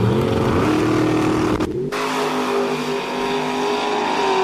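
A dragster launches at a drag race bracket event, its engine roaring loud and close, then cutting briefly before the high-revving drone continues as the car pulls away down the track.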